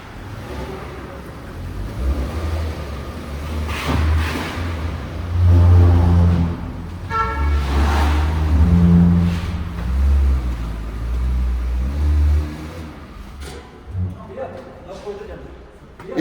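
A small-engined Kia Carens climbs a mountain road between Kargil and Leh, its engine note rising and falling in steady pulls, fairly close, while people talk inside the car over it.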